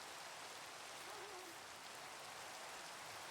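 Steady rainfall in the video game Minecraft, a dense even hiss of rain that holds unchanged throughout, faint and continuous with no voices.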